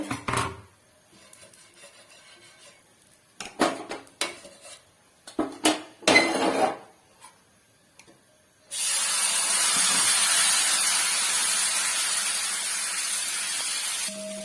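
A dosa is made on a hot pan: scattered clinks and scrapes of utensils against the cookware, then a sudden loud, sustained sizzle and hiss as batter hits the hot surface.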